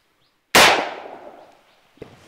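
Single sharp rifle shot during an Assam Rifles ambush drill, fired on command outdoors: a loud close crack with a long decaying rumble, followed by a faint metallic click near the end.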